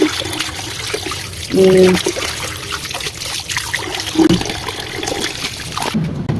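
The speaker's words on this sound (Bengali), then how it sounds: "একদম ছলবেলা পানিতে ধুয়ে নিতেছি" Running water splashes and trickles steadily while chicken pieces are rinsed and swished around, close up, with a few louder splashing moments.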